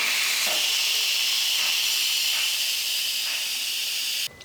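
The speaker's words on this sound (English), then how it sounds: "Our timer just went off, so let's let out all of the steam." Loud, steady hiss of steam rushing from a pressure cooker valve after cooking taco filling, continuous for several seconds before cutting off abruptly.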